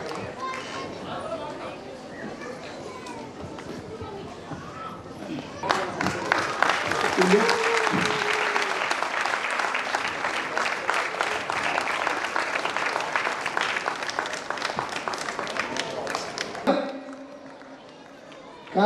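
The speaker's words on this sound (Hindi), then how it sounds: "अजय सरदार बजाव ताली जोर से" A crowd at a church blessing meeting bursts into loud, sustained applause for a newly appointed district leader, rising sharply after a stretch of talk and holding for about ten seconds before stopping abruptly, with voices briefly heard beforehand.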